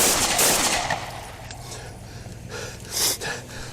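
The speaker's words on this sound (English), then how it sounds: "shots fired, shots fired!" Police gunfire during a confrontation with an armed subject, heard as a burst of sharp reports at the start with scattered shots later, loud and reverberant amid shouting and commotion.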